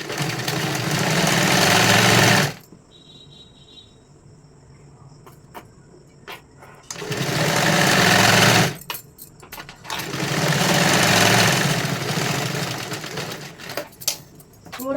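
A sewing machine stitches a size 44 katori blouse in three loud, steady whirring bursts, separated by quieter pauses with faint clicks and handling noises.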